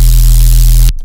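A loud burst of harsh, hissing synthesized noise with a deep hum underneath runs for about a second, then cuts off abruptly.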